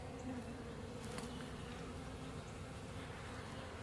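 Dense, steady drone of many honeybees from an open hive, loud and close, holding an even level throughout with no voices.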